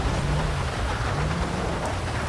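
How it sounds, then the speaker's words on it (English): Steady rainstorm pouring down in GTA V, with a low rolling rumble of thunder underneath, loud and continuous throughout with no voices. "Looks like we got a pretty good storm coming down here."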